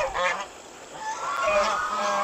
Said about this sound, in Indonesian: Nah, ini ada angsa-angsanya.